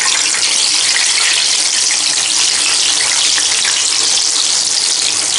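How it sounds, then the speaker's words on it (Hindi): Six or seven large boiled potatoes fry in hot oil until deep red for aloo ragda, giving a loud, steady, dense hiss that holds unchanged throughout with no voices. "आलू एकदम लाल होने तक हम इसको फ्राई करेंगे।"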